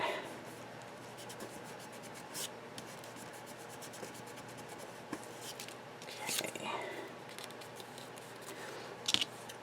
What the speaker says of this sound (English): And then I just trim off the extra piece.